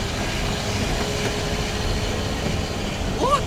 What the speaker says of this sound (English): That was like the smallest train ever!